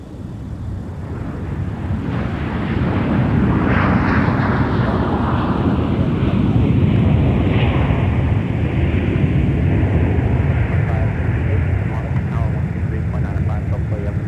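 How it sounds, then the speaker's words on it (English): A Southwest airliner arriving from Nashville at Minneapolis–St. Paul airport produces a loud, steady jet roar that builds and holds throughout. A voice is heard over the engine noise. "here is Southwest coming in from Nashville,"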